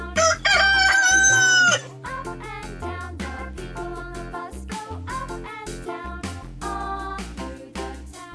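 A loud, close rooster crow rings out from a children's farm-animal toy, followed by a bright toy jingle.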